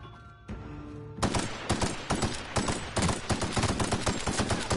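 Rapid gunfire from a weapon in The Outer Worlds, a steady run of loud close shots in quick irregular bursts, following a brief quieter moment with a tonal hum.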